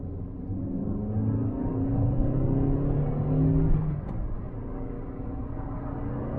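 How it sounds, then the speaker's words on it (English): Cheap hot hatch engine with a light flywheel revs freely from inside the car, a steady close whirring rumble that rises and eases with engine speed. "You can hear how free revving it is with that light and flywheel"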